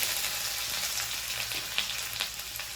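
Ginger hits hot oil already holding cumin and whole spices, giving a steady close sizzle and crackle with light stirring and no voices.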